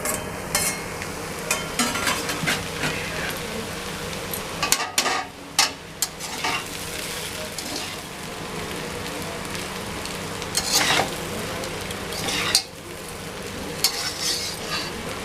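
Egg chowmein frying and sizzling in a pan while being stirred, with steady sizzle throughout and intermittent scraping clatters from the utensil, no talking.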